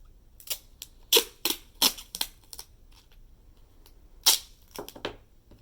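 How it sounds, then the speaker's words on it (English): Scissors snip excess tape off a DIY school-supply pocket, a series of sharp close clicks in irregular bursts separated by quiet gaps. "you can just snip them off with some scissors."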